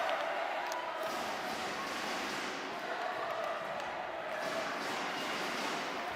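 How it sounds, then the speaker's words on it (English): Crowd murmur filling the Woolwich Memorial Centre arena during a U Sports women's hockey championship game, a steady, diffuse wash of spectators held at an even level throughout. "Great crowd inside the Woolwich Memorial Centre."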